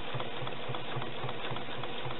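A sewing machine runs a straight stitch across a painted art quilt, its needle chattering in a quick, even rhythm that stays close and steady throughout, with no talking.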